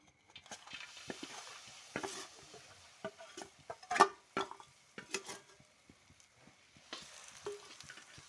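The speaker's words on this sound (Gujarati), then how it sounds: "હવે નાખી દઈએ ગોળ" Jaggery goes into a hot pan for homemade chikki: quiet sizzling broken by irregular scrapes, taps and clinks of a spoon against the pan, close and fairly soft, with no voices.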